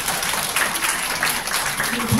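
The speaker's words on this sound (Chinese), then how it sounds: "给我们的伙伴一个掌声。" Audience clapping at a company gathering to applaud a colleague, brief steady applause at moderate distance with a voice faintly underneath.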